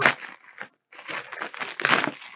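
Cardboard packaging of a Dwarf II smart telescope box being ripped open, with loud crinkling, tearing bursts and a short pause midway, close up with no talk.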